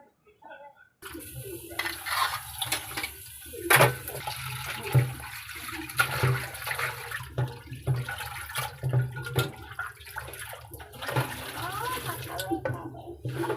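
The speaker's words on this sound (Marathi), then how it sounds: "जोपर्यंत पाणी एकदम क्लीन होत नाही तोपर्यंत त्याला आपल्याला धुवत राहायचं" Cleaned tripe is washed by hand in a vessel of water, with repeated close sloshing and splashing in uneven bursts and the occasional clink of the container, and no voice over it.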